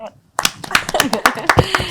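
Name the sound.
audience applauding the guests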